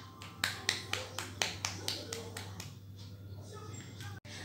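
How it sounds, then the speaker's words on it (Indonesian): A class applauding a student group, with about ten separate claps in a quick, slightly irregular run that fades into a quiet hum and faint room noise, sounding thin and somewhat distant. "Beri tepuk tangan buat kelompok 2 ya."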